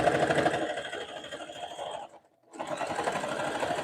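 A sewing machine stitches a jelly roll rug with a steady, fast mechanical chatter, pausing briefly for about a quarter second before resuming at the same even pace, close and alone.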